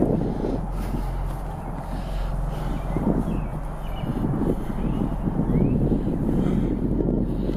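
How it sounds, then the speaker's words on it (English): Wind blows outdoors near a cave, a steady low rumbling roar with gusty buffeting against the microphone and no voices. "You guys can probably hear the wind picking back up"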